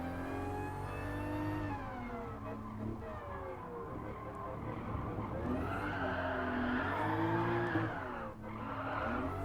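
A Toyota Supra drifting in Gran Turismo Sport, with a loud, steady engine drone that rises and falls with revs over long sliding tyre squeals, continuous and close for the whole stretch.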